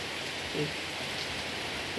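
Steady rain falls in Phen district, Udon Thani, Thailand, a soft continuous hiss of drops with a few faint louder patters, fairly even throughout and without voices.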